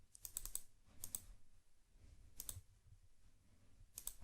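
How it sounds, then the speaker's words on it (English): Computer mouse clicks come in quick close pairs and small clusters, sharp and near, spaced by short quiet gaps, with no talk. "double click here"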